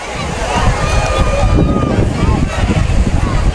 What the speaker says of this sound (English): Now we got a wind coming in.